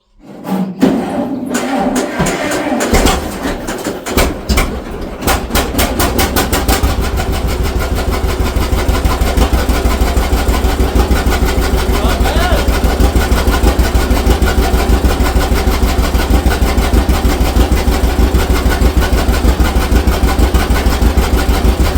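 A John Deere AR tractor engine cranks with sputtering bursts and catches after a few seconds, then settles into a loud, steady, evenly pulsing idle close by.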